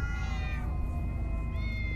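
Several cats meow in the Minecraft Story Mode video game, with overlapping tonal cries that hold steady at close range over a continuous low background rumble.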